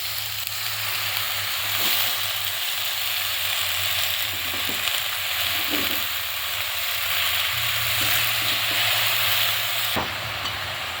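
Malabar spinach (pui shak) frying in a pan with a constant loud sizzle, occasional stirring scrapes and clatters breaking through, close up with no voices.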